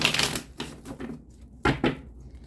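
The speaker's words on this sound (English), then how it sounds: "One last shuffle." Tarot cards shuffled in quick bursts of flapping, riffling card noise, a few separate shuffles with short pauses between them, close and fairly loud.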